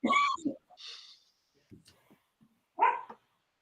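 Cubby the dog gives a few sharp barks and yips, spaced irregularly with short gaps between them, close and clear in an otherwise quiet room.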